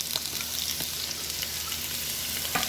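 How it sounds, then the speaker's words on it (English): Chopped onion sizzles in bacon grease in a pot, a steady close frying hiss with occasional light stirring ticks and no voices. "we're going to let this saute for about 5 minutes on its own"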